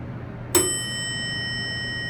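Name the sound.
elevator arrival bell ringing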